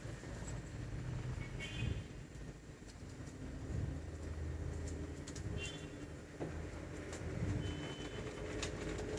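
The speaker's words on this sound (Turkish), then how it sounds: "Şimdi düğmeye basıyorum ve koltuk yavaş yavaş ayağa kalkıyor." A small EuroStrong electric lift recliner TV armchair rises slowly on its motor, giving a continuous, even mechanical drone and rumble that fills the whole stretch, with no talking.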